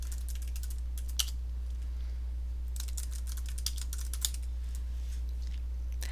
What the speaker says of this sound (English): And then you click in the box and you type in what you want to write.